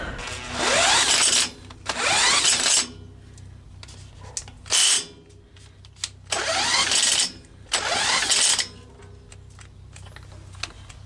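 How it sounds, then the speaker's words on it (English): A cordless drill whirs in several bursts, spinning over the small engine of a Troy-Bilt tiller with a rapid rhythmic churn, then stops between attempts; background hum throughout. "If my drill wouldn't die here. Although she has cranked over quite a few engines."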